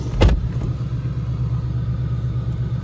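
2019 Ford Mustang GT V8 with an X-pipe exhaust, a short sharp burst at the start settling into a steady, deep idling rumble heard up close.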